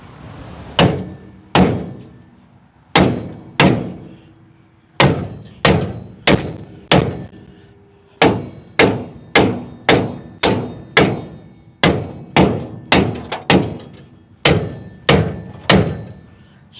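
About nineteen loud, close hammer blows strike a stuck part on the spindle of a salvaged Chevrolet Nova, each a sharp ringing thunk, landing in irregular groups with short pauses between them.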